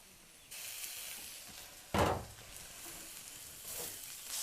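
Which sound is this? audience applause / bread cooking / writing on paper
bread cooking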